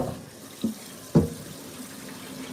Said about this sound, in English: I'm gonna give them another good rinse quick